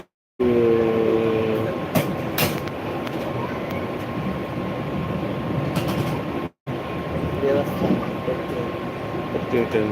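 A steady, rumbling roar of a moving train fills the whole stretch, with brief voices surfacing near the start and a couple of short breaks.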